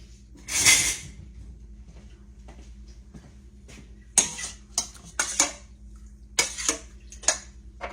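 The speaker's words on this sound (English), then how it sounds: "Let's get us a spoon so we can stir it around a little." A spoon scrapes and clinks against a pan of salted chicken livers, several sharp metallic taps in irregular bursts near the end after a quiet stretch, close and fairly soft.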